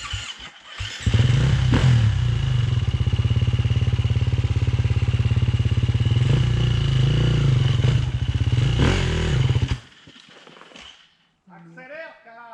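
An enduro motorcycle engine revs on a trail, a loud, close, steady buzzing drone held for several seconds with slight swells before cutting off, followed by people talking.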